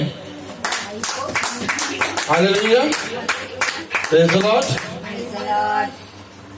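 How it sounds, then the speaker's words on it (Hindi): A church congregation claps along during a service, the quick broadband claps running steadily beneath a preacher's loud, continuous speech. "क्या ताली तो बजाइए।"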